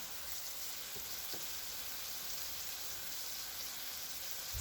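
Eggplant sautéing with soy sauce in a pan for a Filipino recipe, a soft, steady sizzle with faint scattered ticks and no voices, staying even throughout.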